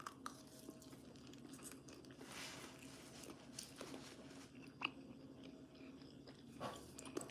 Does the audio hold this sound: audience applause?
no